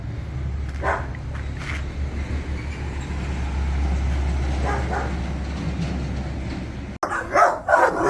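A few distant dog barks over a steady low rumble, like a passing train or traffic, with a louder burst of noise near the end, on a street in Honduras.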